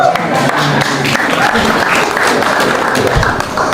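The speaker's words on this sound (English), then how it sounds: "let's round of applause for that" Audience applause at a government event on digital economy investment, a continuous, fairly loud wash of clapping hands with scattered thumps, no clear voices over it.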